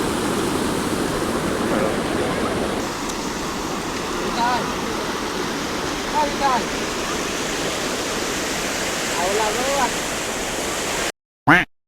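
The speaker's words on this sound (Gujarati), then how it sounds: "અત્યારે પુલ ઉપરથી જ પાણી જાય છે" Loud, continuous rushing of floodwater flowing over a bridge after heavy rain, broad and steady like a torrent, with faint voices briefly audible beneath it.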